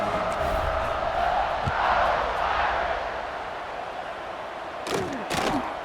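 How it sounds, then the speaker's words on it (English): Stadium crowd in a college football game between Notre Dame and Alabama, a broad continuous roar that swells and then slowly eases, with a few sharper shouts and thuds near the end. "this crowd is feeling themselves after that last drive"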